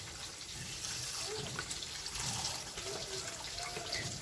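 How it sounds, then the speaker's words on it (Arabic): Half a liter of milk poured from a carton makes a soft, continuous liquid gurgle and splash, close and faint, lasting a few seconds without a break. "غادي نخوي نص لتر د الحليب،"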